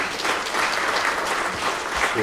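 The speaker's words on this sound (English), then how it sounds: "can we give a round of applause to" Steady applause from an audience at a university linguistics expo, a dense wash of clapping sustained throughout at moderate loudness.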